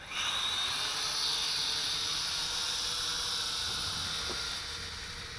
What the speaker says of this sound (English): Now, although it has motor issues, this really isn't a half bad flyer.